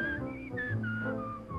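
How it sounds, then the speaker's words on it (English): A person whistles a short wavering melody, a clear close tone sliding between notes over a cartoon soundtrack background. "would you please stop that whistling?"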